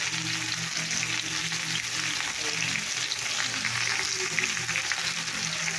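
Pointed gourd (potol) pieces fry in a pan with a steady, dense sizzle that runs unbroken throughout, with a low background hum underneath.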